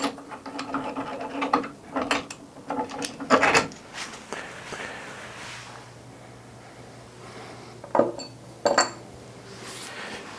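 Metal clicks, ratcheting and rattles come from the fence adjustment mechanism of a 6-inch jointer as it is loosened and removed, in bursts of clanks separated by quieter pauses with a faint hum.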